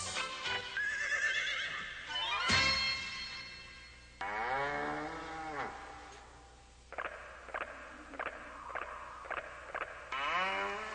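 A horse whinnies several times, loud shrill neighs rising and falling, with short snorting bursts between them and no talking.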